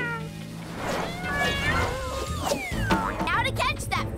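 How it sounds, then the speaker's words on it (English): Cartoon kittens meow in a chorus of high, wavering cries layered over each other, mixed with characters talking and background music throughout. "There are still more kittens."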